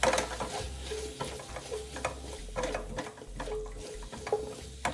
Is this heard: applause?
no